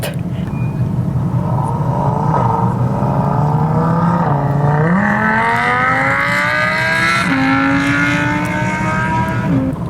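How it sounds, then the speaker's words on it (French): A Lamborghini and a Ferrari SF90 race on an airstrip, loud engine roar climbing steadily in pitch through upshifts, with a second engine layered underneath over ten seconds. "Là, on est avec une Lamborghini contre une SF90, je crois. En tout cas, c'est une Ferrari."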